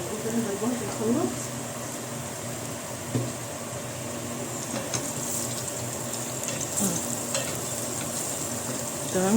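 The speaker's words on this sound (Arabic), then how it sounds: "بس اول ما تطلع ريحه الثوم نحط القوطه اللي احنا ضاربينها في الخلاط" Blended tomato poured into a pot of sizzling chopped garlic and onion, then stirred, giving a steady soft sizzle with scraping and clinks over a faint running-water hiss in a home kitchen.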